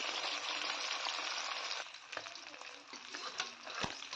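Puti fish fry in oil with a soft, steady sizzle, joined partway through by gentle scraping and clinking as the pieces are turned; quiet and close.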